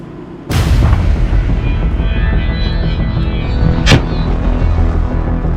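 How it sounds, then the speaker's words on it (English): A kamikaze drone with a blast comparable to a 40mm grenade explodes on impact, a sudden loud boom followed by a sustained roaring rumble, with a brief sharp crack a few seconds later. "upon impact, it will explode with a force comparable to that of a 40mm grenade"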